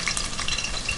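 Small pieces of onion brown in hot oil in a pan for Mexican red rice, making a brief, even, crackling sizzle close by.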